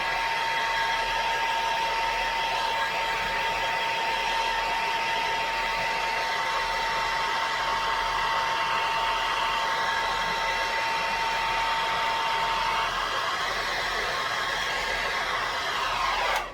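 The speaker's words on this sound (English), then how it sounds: "I'm going to get the hairdryer going right here." A hair dryer blows steadily and loudly for the whole stretch, a constant whooshing roar with a faint whine, cutting off abruptly at the end.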